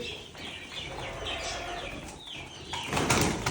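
Pigeons flutter and flap their wings in a busy, continuous rustle at a pigeon loft, with bird sounds mixed in and a louder burst of wingbeats toward the end.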